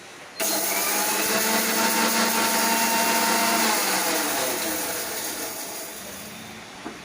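A kitchen mixer grinder briefly grinding urad dal for curry leaf chutney: a sudden loud whirring motor roar with a steady hum and rattle, easing slightly before stopping, with no voice over it.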